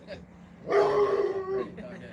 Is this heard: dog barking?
yes